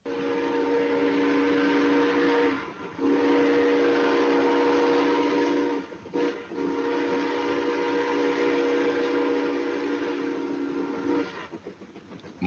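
A steam locomotive's whistle blows long and loud in sustained blasts, broken by two short gaps, before cutting off near the end into rumbling train noise.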